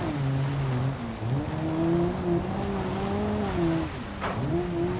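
The small four-cylinder engine of a Honda HR-V in BeamNG drones close and loud, its pitch rising and falling as it revs and shifts. Brief tire noise can be heard near the end.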